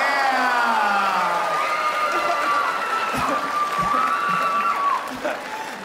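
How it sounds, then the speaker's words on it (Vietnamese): Audience applause and cheering fill a televised dance competition right after a perfect score, a steady roar of clapping with voices sounding over it. "những tràng pháo tay và những lời hưởng ứng nồng nhiệt như thế này"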